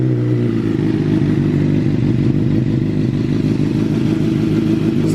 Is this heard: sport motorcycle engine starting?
yes